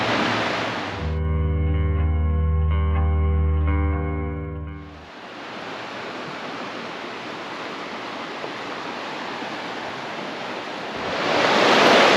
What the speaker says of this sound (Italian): Qui c'è il fiume